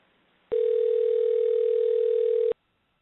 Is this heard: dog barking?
no